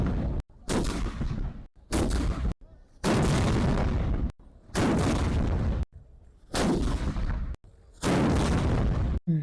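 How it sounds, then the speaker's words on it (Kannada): Ceremonial cannons fire at the Mysore Dasara festival, five or six huge booming blasts spaced a second or two apart, each rolling out in a long outdoor echo with short gaps between. "ಕಾರ್ಸ್ ಬಂದಿರೋ ಈ ಕಾಲದಲ್ಲೂ ಫಿರಂಗಿ ಹೊಡಿತವ್ರೆ."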